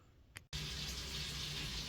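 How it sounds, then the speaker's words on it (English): After a brief click and a moment of quiet, water rushes in steadily, a continuous hissing flow like a washing machine filling. "The washer's filling up with water."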